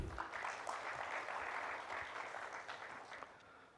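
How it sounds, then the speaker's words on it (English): An audience at a digital customer experience conference and awards event claps in steady, dense applause, moderately loud and sustained before gently fading toward the end. "Can we have a huge round of applause,"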